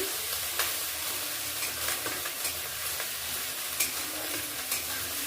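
Garlic fries in a pan for a lobster curry, a steady close sizzle broken by repeated sharp clicks and scrapes of a spatula stirring, no talking.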